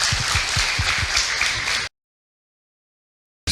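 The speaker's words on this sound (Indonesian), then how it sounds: "Tepuk tangan untuk Ibu Sumiati." Audience applause for Ibu Sumiati at an Islamic family talk, a steady wash of clapping with a few thumps underneath, cutting off abruptly before near-silence.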